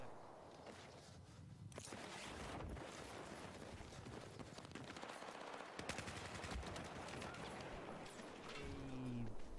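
A Beretta AR-160 assault rifle in Battlefield 4 fires in rapid sustained bursts, loud and close, with dense repeated shots and someone talking over the gunfire.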